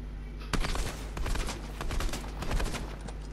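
Rapid bursts of gunfire in a Fortnite match ring out loud and close, a flurry of overlapping shots with a steady game soundscape underneath and no speech.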